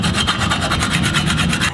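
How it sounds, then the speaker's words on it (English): Steel being cross filed by hand during a garden trowel build, a steady rhythmic rasp of repeated strokes, close and loud with no talk. "if you have to do a cross file, do it quick, get it out of the way so that nobody has to listen to your annoying noises"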